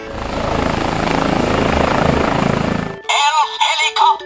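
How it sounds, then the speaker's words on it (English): A steady toy helicopter rotor whir plays for about three seconds, then cuts off as a voice begins talking. "Orange helicopter."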